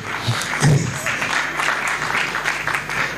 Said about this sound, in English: A round of applause, especially to the lady.